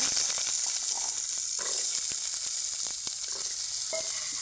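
Small shallots fry in a pan for a pirandai chutney, giving a steady close sizzle and hiss with scattered light crackles and soft stirring scrapes throughout.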